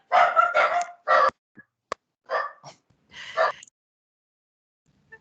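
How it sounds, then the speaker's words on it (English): Dog barking in the background, a run of loud sharp barks in quick bursts with short gaps, then a few more spaced barks before trailing into quiet. "I think the dog has stopped barking somewhere"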